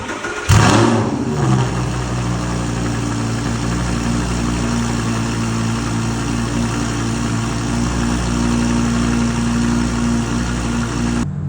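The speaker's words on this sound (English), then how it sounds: "So now let's start the car." An Audi R8, reassembled after O2 sensor replacement and spacer installation, starts with a sharp crank and catch, then settles into a loud, steady idle with some revving, heard close up with no talk.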